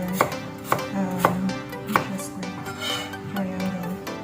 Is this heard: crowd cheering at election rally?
no